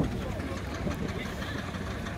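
A 4.5-inch scale Burrell traction engine built from LSM castings runs at a steam rally, giving a steady low mechanical rumble and chuff at moderate distance, with outdoor ambience and voices mixed in.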